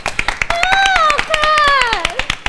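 Quick, steady hand clapping in a music classroom, with a series of sharp claps repeating under a sliding, whistle-like tone.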